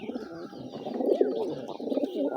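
Several pigeons cooing together at a pigeon farm, a dense, continuous run of soft, throaty coos up close, with no talking.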